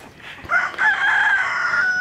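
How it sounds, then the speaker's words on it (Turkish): A big speckled rooster on a farm gives one loud, close crow lasting well over a second, with a rising start and a long held note. "Burada da yine böyle bir çilli horoz var."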